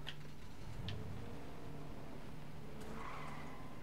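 A Lamborghini drives and skids in Fortnite, giving a steady engine drone with short tire-squeal and ticking accents, moderately quiet and continuous, with no talking.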